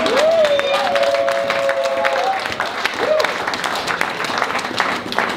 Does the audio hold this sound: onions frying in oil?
no